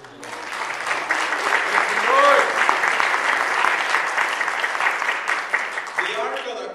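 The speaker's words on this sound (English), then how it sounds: "Give him a hand clap of praise." A church congregation claps hands in praise during a worship service, a dense, steady wash of clapping with voices and shouts mixed in, a brief spoken voice near the end.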